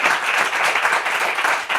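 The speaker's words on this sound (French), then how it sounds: "On peut applaudir." Audience applause at a Bible quiz round, a dense steady wash of clapping filling the whole moment without a break, fairly close and loud.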